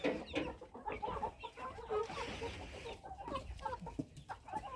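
Faverolles chickens cluck and chatter continuously at close range, with many overlapping calls from a small flock of fowl.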